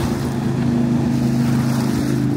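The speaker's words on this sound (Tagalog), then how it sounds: "Ayan, may mga Calgary Fire Rescue na dumadaan." A Calgary Fire Rescue motorboat passes on the water near the shore. Its engine gives a loud, steady, close drone with a constant pitched hum, and there is faint water and wind noise beneath it.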